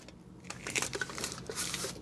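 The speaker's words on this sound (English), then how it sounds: "you can cap it with aluminum foil or a cap that comes with the mason jar" Aluminum foil is crumpled and pressed over the mouth of a glass mason jar serving as a kill jar: a close, continuous crinkling and crackling for about two seconds with no talk.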